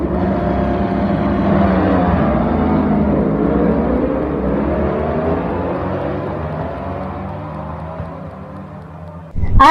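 Race cars run at Batangas Racing Circuit, heard as a continuous, somewhat distant engine drone that swells and sways in pitch as the cars pass, ending with a sudden sharp noise.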